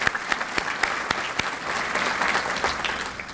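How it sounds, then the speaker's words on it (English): An audience applauding the Portsmouth City Council at a city State of the City event, a dense, steady round of clapping from a crowd indoors, loud and sustained throughout. "Let's give the Portsmouth City Council a round of applause"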